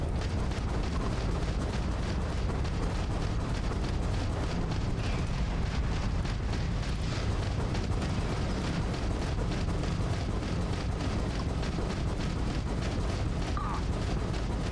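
Spaceship weapons firing in a Starfield space battle, a dense continuous barrage of rapid blasts and rumbling explosions, loud and unbroken, with no talking.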